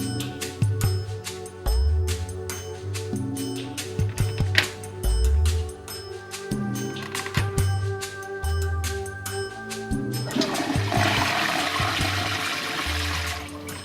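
A TOTO Aquia toilet with an in-wall tank flushes: a rushing surge of water with gurgles and knocks, settling into a hissing refill and trickle, close and fairly loud, with no voices.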